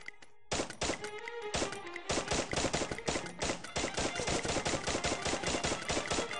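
Rapid bursts of Free Fire video game gunfire, loud and close, firing in quick repeated volleys with short pauses between them.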